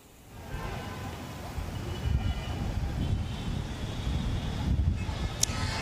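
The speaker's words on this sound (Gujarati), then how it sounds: "ભારે પવન પણ છે ને વીજળીના કડાકા બડાકા પણ છે." Strong gusty wind during an unseasonal thunderstorm in Prahladnagar, Ahmedabad, roaring steadily as a low rumbling buffet against the microphone, sustained and loud with slight surges.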